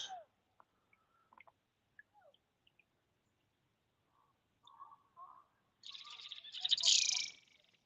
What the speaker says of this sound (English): Some birds attacking each other over here.